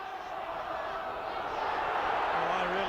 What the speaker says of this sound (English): A big crowd here then at the Boulevard, and Hull's supporters in very good voice